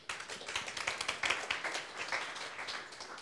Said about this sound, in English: Please, a big applause for their president, Mrs. Sheila Beladinejad.